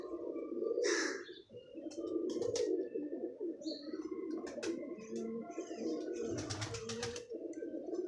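A red-footed, cross-bred pigeon coos in low, steady rolling phrases, with brief higher chirps and calls from other birds close by.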